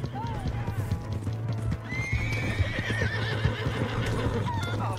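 A horse whinnies in a rising, drawn-out call over steady clip-clop hoofbeats and a low drone in the video game Red Dead Redemption 2.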